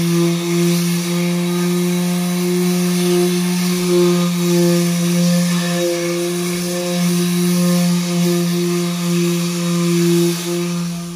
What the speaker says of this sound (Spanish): De lijar toda la madera